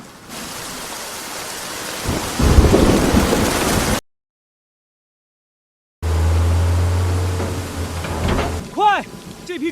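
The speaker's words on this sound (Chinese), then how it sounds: "下雨了。" Rain falls steadily in the countryside near a forest, a broadband wash with a low rumble like distant thunder, followed by a gap of silence and then rain again over a low hum and tonal sweeps.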